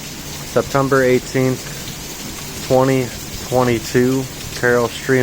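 Hail falling during a storm in Carol Stream, Illinois, rattles and patters steadily in the background while someone talks over it throughout.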